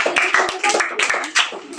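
Students at a youth camp's afternoon recreation session clap hands in short, sharp bursts of a few claps, close and fairly loud, interleaved with an adult voice speaking to the group.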